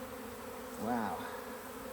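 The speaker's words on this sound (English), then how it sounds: "And these are all nurse bees, by the way." Honey bees buzzing in an open beehive full of nurse bees, a steady close hum with one bee droning past louder for a moment, and a brief exclamation from a person.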